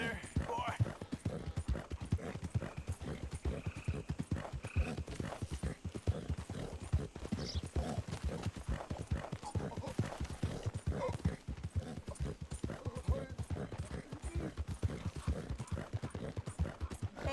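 Steady rhythmic clip-clop of horse hooves trotting in Red Dead Redemption 2, continuous and fairly close, with occasional voices talking over it.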